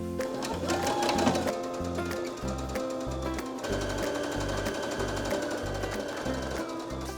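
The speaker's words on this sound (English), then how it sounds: "I think I'm just gonna sew them together" A domestic sewing machine stitches two fabric garment pieces together, its rapid needle chatter running steadily and close up alongside a pulsing background beat.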